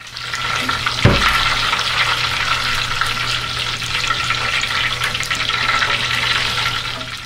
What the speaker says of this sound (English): Looks like they're sizzling.